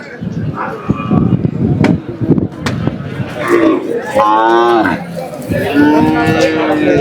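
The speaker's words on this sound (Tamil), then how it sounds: "இங்கே 2 காளை கன்றுகள் கட்டியிருக்காங்க" Two tethered bull calves of a native breed at a busy cattle market lowing loudly, several drawn-out moos close by over crowd murmur and scattered knocks.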